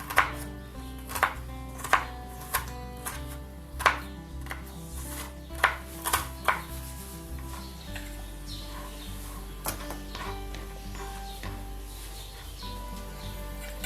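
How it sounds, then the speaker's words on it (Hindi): Knife finely chopping onion on a board, a series of crisp, close, evenly spaced chops that grow softer and sparser partway through. "प्याज को बहुत बारीक से काटना।"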